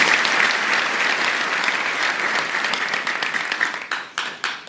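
Congregation in a church breaking into sustained applause, a thick continuous roar of many hands that gradually breaks into scattered individual claps and fades near the finish.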